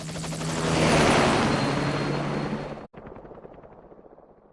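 A military helicopter in Metal Gear Solid V: The Phantom Pain thunders close and loud with rapid rotor chopping, swelling then holding steady before cutting off abruptly, followed by a quieter rhythmic rotor thump.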